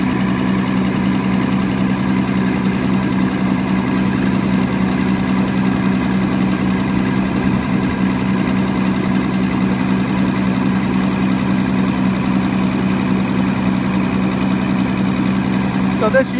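Diesel power generator set built for a tannery, with natural gas backup, running at a steady idle-like drone with constant low rumble and vibration throughout, no talk heard over the engine.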